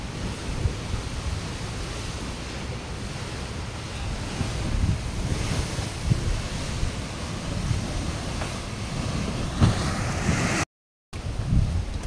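Sea water surges over a dike in Navotas, a steady broad wash of surf with wind buffeting the microphone throughout, briefly cutting out near the end.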